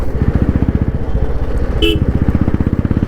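A 2015 Royal Enfield Bullet motorcycle engine putters rhythmically up close, with a short horn toot partway through amid city road traffic noise.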